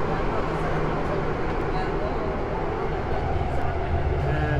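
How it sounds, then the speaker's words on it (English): A Hong Kong metro train rumbles loudly and steadily as it pulls into a station and slows, the continuous rail noise heard from inside the carriage, with people talking over it. "Here comes our train into the station, and I feel it slowing down."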